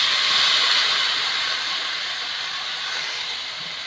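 Tomatoes dropped onto softened onions frying in a pan give a loud, steady hissing sizzle that slowly eases over a few seconds, with no talking.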